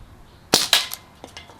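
Crosman 1077TAC air rifle fired freestyle at cans outdoors: two sharp, close pops about a quarter second apart, followed by fainter clicks and small impact ticks.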